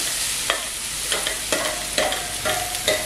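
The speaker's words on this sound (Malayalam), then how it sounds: "ഞാൻ നെയ്യ് ഒഴിച്ചതിലോട്ട് ഈ ഏത്തപ്പഴം ഇട്ട് കൊടുക്കാം" Ripe plantain frying in hot ghee, a steady close sizzle broken by several soft stirring scrapes at roughly half-second intervals, with no voices.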